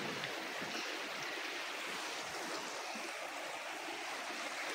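Water rushes steadily through a drainage channel in Abbottabad, a continuous broadband hiss and churn of flowing water, faint in level but unbroken, with no voices.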